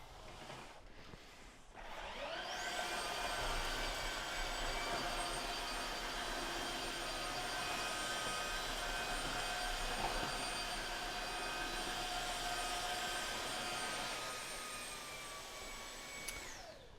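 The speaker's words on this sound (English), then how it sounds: "a 3-in-1 machine that mops, vacuums, and cleans itself" A Tineco FloorWasher FlashDry 6 floor washer powers up and runs steadily at close range, with a loud, even motor whine and high tonal hum that holds for about fifteen seconds before winding down.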